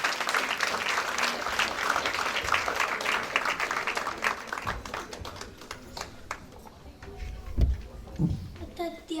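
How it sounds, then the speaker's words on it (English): Audience at a Diwali lights switch-on in Derby claps for two boys, a dense, steady round of applause that thins out toward the end, with a few louder taps near the close. "Please give a round of applause to these 2 boys here."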